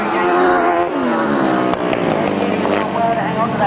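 Grasstrack racing sidecar outfits roaring past on the last lap at the 1994 Lincolnshire Poacher meeting, a loud continuous engine howl with shifting pitch as the machines sweep by.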